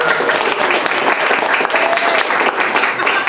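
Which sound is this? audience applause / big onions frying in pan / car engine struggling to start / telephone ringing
audience applause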